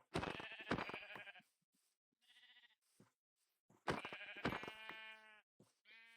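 Sheep in the video game Minecraft bleat in loud, wavering calls, two long bursts with fainter bleats between, close by and with no talking.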